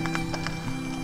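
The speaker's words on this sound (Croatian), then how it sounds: "Konja po cesti." Horses walking on a mountain road on Biokovo, hooves clip-clopping in a quick, steady series of close, distinct knocks over a constant low background hum.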